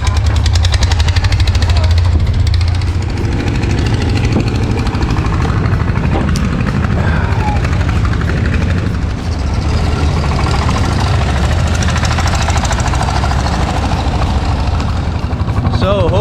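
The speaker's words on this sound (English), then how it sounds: "hopefully you can hear me with the loud motor noise" A loud, continuous motor drones on a tour boat crossing Inle Lake, a heavy low chugging rumble that stays steady throughout, with voices partly audible beneath it.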